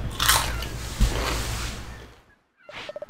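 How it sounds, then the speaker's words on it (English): Food is munched and crunched right against the microphone, with a loud bite and crisp crunching over two seconds, a brief silence, then a few soft chewing clicks. "I hope I'm munching and crunching it too loud."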